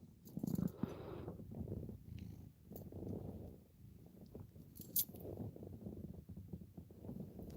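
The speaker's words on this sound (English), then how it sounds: "Do you hear this cat purring?" A house cat purrs close to the microphone, a soft, steady rumbling purr that rises and falls with each breath, with occasional small clicks and rustles.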